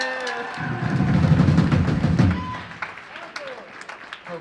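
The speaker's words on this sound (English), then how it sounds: "one more giant clap of appreciation for the huge amount of work that went into that" Audience applause at a live music show opened by a band, a burst of clapping that swells quickly, holds for about two seconds and then fades into scattered claps and murmur.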